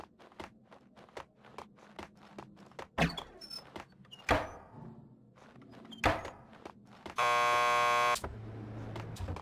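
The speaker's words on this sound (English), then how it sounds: "Just press the buzzer by the door. Petersburg will buzz you in." A door buzzer sounds in the video game Max Payne 2, a loud sustained electronic buzz lasting about a second, set among thuds, footsteps and a door slam in a quiet interior.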